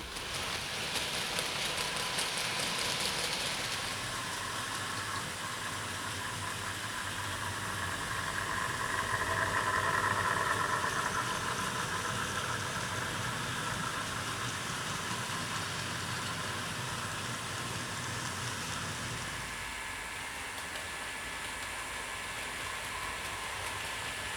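A British Rail Class 20 diesel locomotive idling, a steady low engine rumble with a hissing wash on top, swelling slightly midway and then dropping before the end.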